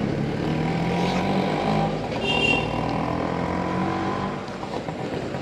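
Loud, steady engine rumble from a vehicle with a faulty silencer on a night ride, continuous throughout and easing slightly toward the end.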